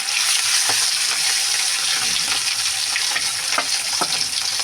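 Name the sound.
fish being added to hot oil and frying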